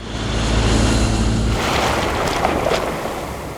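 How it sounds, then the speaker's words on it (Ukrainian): Steady rush of sea surf washing against the shore in Albania, with wind noise and a low rumble early on, continuous and fairly loud. "можна почути, як хвилі розмовляють з берегом"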